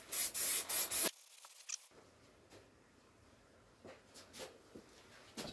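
A spray can of primer hisses onto the body of a Ford Escort MK1 during restoration, with several short close bursts at the start followed by quieter scattered rubbing sounds.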